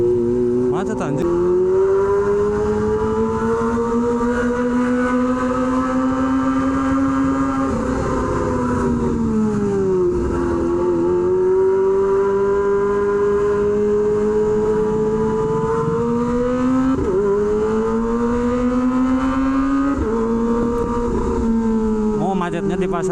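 A Kawasaki Ninja ZX-25R with an SC Project H2 exhaust idles and creeps through a dense market traffic jam, its steady drone rising and dipping with small throttle blips among surrounding vehicles.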